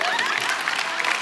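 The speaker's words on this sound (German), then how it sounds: "Ein Applaus im Media-Team" A short burst of applause at a church gathering, brief and fairly close, with a voice talking over the clapping.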